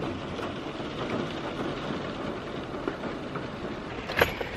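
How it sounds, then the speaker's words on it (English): Steady rain falls outside a barn, a dense, even hiss that continues throughout, with a faint rumble underneath and one brief knock near the end. "got done with that just in time, because it's starting to rain"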